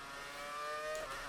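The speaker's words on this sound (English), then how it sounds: "This car sounds so good as well on the downshift." Brawn BGP001 Formula 1 car in the racing game F1 2019, a brief whining engine note that climbs and then drops sharply as it downshifts, fairly close with no talk.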